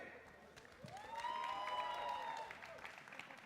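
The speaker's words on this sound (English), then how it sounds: "can we have a huge round of applause to us for the Ape Army?" An audience at an esports LAN event in Chennai applauds and cheers. The crowd noise is fairly faint and distant, swelling for a couple of seconds in the middle before easing off.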